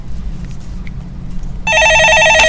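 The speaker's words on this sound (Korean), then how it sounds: "예, 전화 받아보겠습니다." A telephone rings in a radio studio, a loud electronic warble that starts abruptly partway through and continues steadily over a quiet room background.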